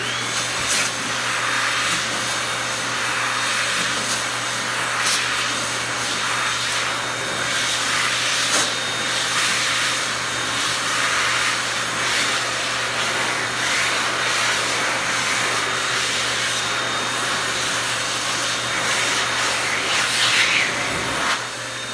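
A 2023 hand dryer in a public restroom blows a steady, loud, unbroken roar of air that holds level for about twenty seconds with no talk over it.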